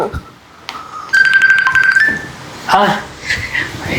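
A mobile phone ringtone plays a bright electronic melody for about a second, mixed with people speaking, while a couple exchange words in Filipino around the ringing.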